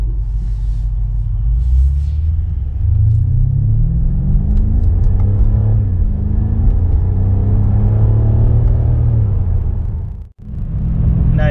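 A 2021 BMW M5 engine hums and rumbles through steady driving, its pitch climbing as it accelerates, loud and close from inside the cabin.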